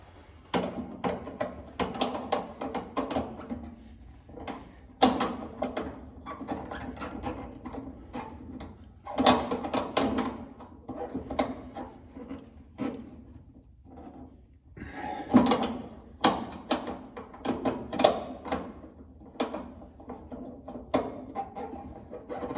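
Metal tools clatter and rattle while someone rummages through a drawer for a wrench in a garage, working on a 1969 Firebird; irregular close-up knocks and scrapes come in bursts throughout, with no talking.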